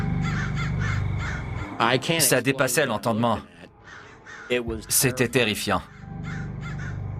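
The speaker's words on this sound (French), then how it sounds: "Une volée de corbeaux a cerné toute la voiture." A flock of crows caws harshly and repeatedly around a car, the calls clustered in bursts close by, while someone speaks in French over them.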